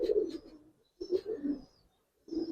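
Giribaz silver pigeons coo in three short bursts of soft, throaty, rolling calls with brief pauses between them, close by and with no voices.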